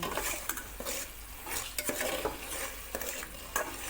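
Scraping and stirring of Thai curry paste in a pan over low heat with a soft sizzle, irregular strokes and clinks of a utensil against metal, close up, no talking.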